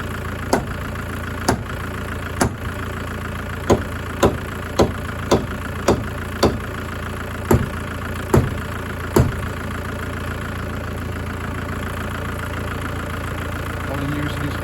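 A 1990s Ford Transit with a 2.5DI turbo diesel engine idles steadily at close range, and a series of sharp knocks or taps sounds over the rumble at irregular intervals.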